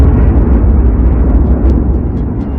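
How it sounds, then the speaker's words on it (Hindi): A huge cosmic explosion marks the birth of the Sun: a loud, sustained low rumbling roar that fills the whole stretch with dense, boomy energy and no talk. "बीच के इस भयंकर दबाव के कारण एक विशाल विस्फोट हुआ, और इसी विस्फोट के कारण हमारे सूरज का जन्म हुआ।"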